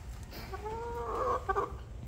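A chicken gives a few soft, rising clucks close by, brief and quiet against a low background hum.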